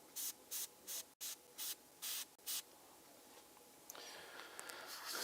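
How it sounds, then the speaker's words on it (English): An airbrush sprays paint onto a Lord Exultant Emperor's Children miniature, first in about seven short, sharp hissing bursts in a quick rhythm, then a quieter, longer continuous hiss. The sound is close and clear, with no speech. "Tiny little aimed bursts where I need it to be, rather than just holding it open, letting it spray"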